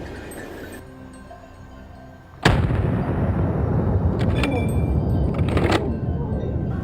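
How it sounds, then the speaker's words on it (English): One loud, sharp gunshot from a wild boar hunt cracks out and then rings and echoes, its reverberation and rumble trailing off over several seconds. "The gunshot echoed."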